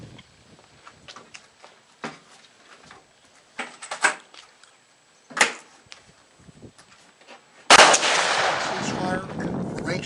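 Guns fire on an outdoor shooting range. Scattered cracks and thumps come first, then one loud, close blast rings out and decays into a long, noisy tail.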